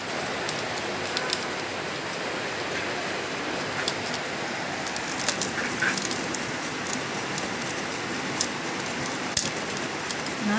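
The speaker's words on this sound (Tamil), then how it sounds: "மழை சரியான மழை பெஞ்சிட்டு இருக்கு" Heavy rain falls outside a home kitchen, a steady soft patter with occasional sharper drips, continuous and moderately faint, with no one speaking.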